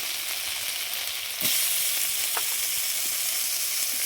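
Chopped tomatoes fry in a pan with a steady broadband sizzle, and there are a few short scraping stirs. The sizzle grows louder partway through. No voices.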